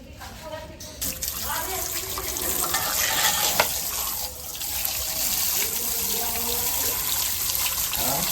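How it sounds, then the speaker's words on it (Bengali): Fish is washed under a running tap, giving steady splashing and flowing water with sloshing as it is handled, while people talk over it. "মাছটাকে আমি একটু ধুয়ে নিই আগে"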